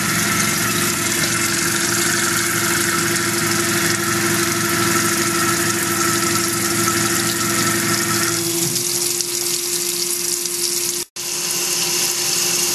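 A Tormach PCNC mill runs a depth-of-cut test at about 1,000 RPM spindle speed and 20 inches per minute feed, a steady loud whirring drone that drops off near the end, with a brief cutout before it resumes.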